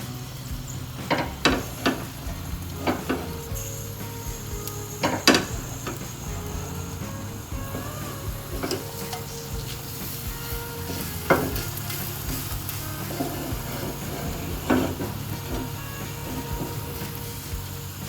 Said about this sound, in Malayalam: കായം ഇങ്ങനെ എണ്ണയിലോട്ട് ഇട്ട് കൊടുക്കാം.